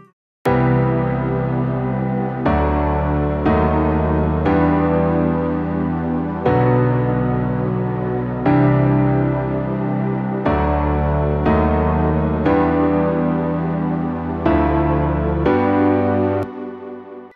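Sustained soft synth pad layered with gentle piano chords in a slap house track, changing every couple of seconds, smooth and warm throughout.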